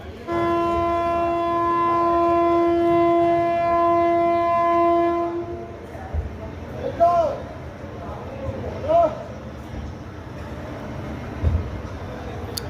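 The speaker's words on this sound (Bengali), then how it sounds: "বন্ধুরা ট্রেন ছেড়ে দিল পানাগড়ের 2 নম্বর প্ল্যাটফর্ম থেকে।" A loud sustained train horn blares for several seconds, then the 12333 Howrah–Prayagraj Vibhuti Superfast Express rumbles and clatters as it pulls away from platform 2 at Panagarh station, West Bengal, with people talking nearby and short squeals.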